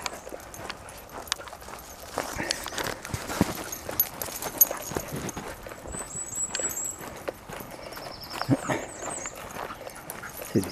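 Dogs move about close by on a forest outing near a stream, with scuffling, panting and a few faint whimpers. Some scattered outdoor noise and brief birdlike chirps come through in the background.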